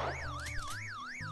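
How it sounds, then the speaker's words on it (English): A car alarm goes off in the video game Monaco, a rising and falling electronic wail sweeping up and down in a steady rhythm over background game music. "the car alarm's gonna go off"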